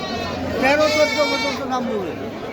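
A goat gives a loud, wavering bleat close by at the Baneshwar livestock market, lasting about a second, with people talking in the background.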